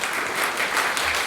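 Sustained audience applause at a political hustings, a dense steady wash of clapping throughout with no voices breaking through.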